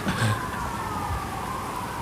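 An emergency vehicle siren during a storm wails steadily at a moderate distance, as a sustained wavering tone over a low background rumble.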